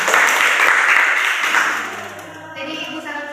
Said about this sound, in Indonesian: tepuk tangan untuk Jeki